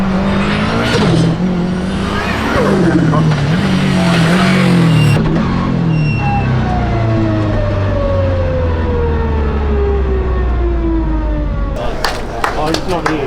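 A race car at a Ringwood Australian Championship event accelerates toward the kink, its loud engine note climbing and then falling away as it passes, with a siren-like whine and voices nearby.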